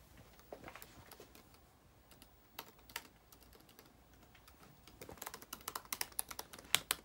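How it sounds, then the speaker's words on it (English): Clicks of a computer keyboard, sparse taps at first, then quicker bursts of typing near the end, close and quiet. "Just log in, type in your stuff."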